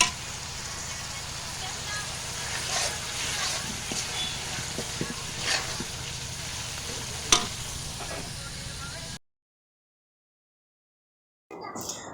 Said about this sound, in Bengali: তো সময় নিয়ে রোস্টগুলো আমি ভেজে নিতেছি